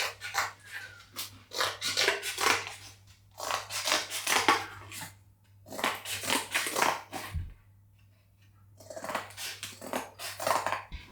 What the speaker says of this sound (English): I'm just going to do little snips with my scissors so that it looks like feathers.